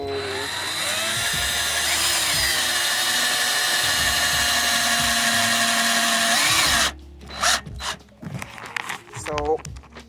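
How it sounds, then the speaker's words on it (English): A power driver whines steadily for several seconds while a screwdriver bit widens a small hole drilled in a garden container, then cuts out abruptly and leaves short handling clatters. "I drill a small hole in there, and then I'm just using my screwdriver to make the hole bigger"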